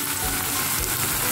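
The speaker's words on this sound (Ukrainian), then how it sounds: "Коли ви підсмажили таку піджарочку ось до такого стану" An onion and carrot sauté fries in a pan, a dense, steady close sizzle with no break for the whole short stretch.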